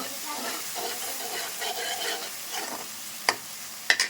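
Gongura leaves roast in a pan over a low flame with a soft, continuous sizzle and repeated stirring scrapes, ending in a few sharp utensil clicks against the pan.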